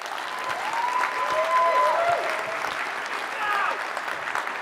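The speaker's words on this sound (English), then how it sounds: "Please give an enormous, thunderous round of applause for Minko Gechev." A conference keynote audience claps steadily, a dense sustained wash of applause with a few whistles cutting through.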